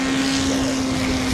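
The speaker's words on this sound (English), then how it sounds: "Dean is bringing his steerman in on a low pass, or possibly a landing" A model Stearman biplane makes a low pass over an air show field, a steady, fairly loud engine drone holding one constant pitch over a windy background, very brief.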